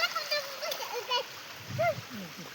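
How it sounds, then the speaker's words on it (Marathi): Water splashing at a hidden monsoon waterfall near Pune, a continuous rushing wash under children's high-pitched voices and chatter that rise and fall throughout. "हे बघा धबधबा कसा पडतोय खाली"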